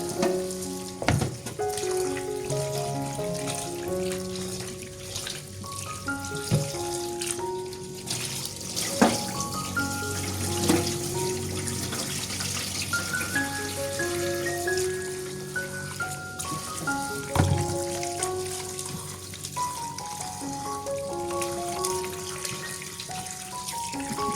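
Sweet corn rinsed under a running kitchen tap, a steady splashing water stream with shifting spatter as the cobs are turned, close and continuous over faint background tones.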